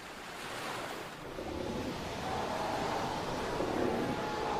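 Sea surf rolling steadily along a coast, a continuous wash of breaking waves with some wind noise, moderately loud and with no voices.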